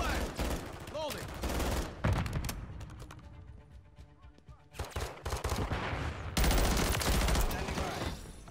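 Video game gunfire crackles in dense bursts and sustained volleys, loud and close, with brief lulls between exchanges and a heavy barrage near the end.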